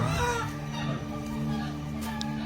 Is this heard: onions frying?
no